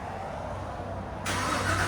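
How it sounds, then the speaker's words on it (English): A 2019 Cadillac Escalade 6.2L V8 with a Corsa Sport cat-back exhaust idles with a faint, steady low rumble, joined by a sudden hiss for the last half second. "19 Cadillac Escalade with the Corsa catback system."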